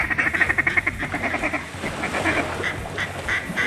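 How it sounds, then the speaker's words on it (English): Mallard ducks quacking in Arkansas flooded timber: a rapid series of nasal quacks in quick succession, fairly near, settling into looser, softer calls over steady background. "Kip, is that one of those things they call a mallard, greenhead?"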